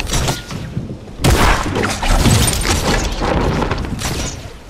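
Loud pump shotgun blasts and explosive bangs from Fortnite Battle Royale, with a heavy boom partway through, fill the clip as dense, continuous game combat noise.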